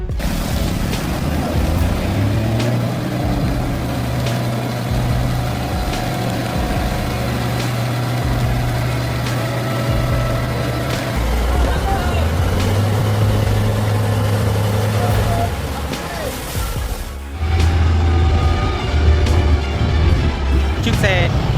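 Heavy truck loaded with wood climbing on a rough road, a deep diesel engine droning and rising under strain with shifts in pitch, close and loud, while a voice narrates over it.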